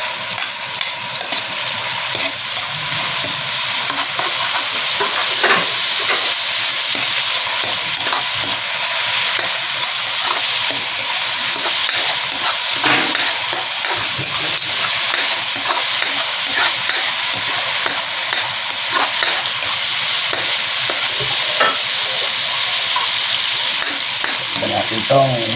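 Onion and garlic sizzle in a hot pan for arroz valenciana, a loud, steady frying hiss with occasional stirring scrapes throughout, alone without talk.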